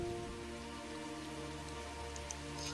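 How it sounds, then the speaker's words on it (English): Steady rain falls in the fantasy video game Legends of Ellaria, a continuous soft hiss of drops layered over a droning ambient game soundtrack with a few faint chimes. "And now we're getting some rain too."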